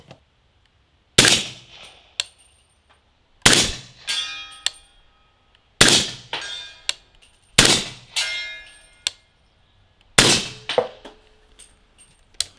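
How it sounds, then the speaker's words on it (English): Five sharp shots from a rifle with a Rugged Razr 7.62 silencer and subsonic ammo, each followed by a bright metallic clang off a steel target and ringing decay, spaced a couple of seconds apart, with quieter pings in between. "we're going to shoot at the steel just so you can hear how quiet this silencer is with subsonic ammo"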